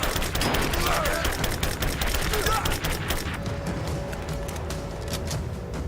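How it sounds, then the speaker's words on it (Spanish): Dense gunfire from the video game Rise of the Tomb Raider with rapid, overlapping shots and bursts, loud and continuous, with voices shouting in Spanish under the barrage. "¡Me disparan!"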